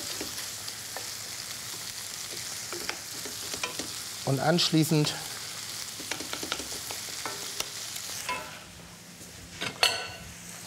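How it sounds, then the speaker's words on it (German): Minced meat browning in a frying pan, with a constant sizzle broken by scraping and clinking stirring strokes against the pan, plus a short spoken German phrase. "das Hack schön anbraten"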